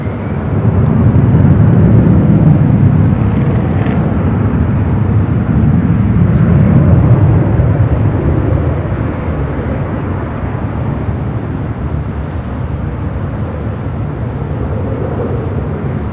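An airliner rolls for takeoff on runway 24 Right at LAX, its engines a loud, sustained low roar that stays steady and then slowly fades a little, with no voices over it.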